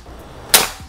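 A single sharp shot from a PCP air rifle cracks out, a crisp pneumatic pop that fades quickly into quiet.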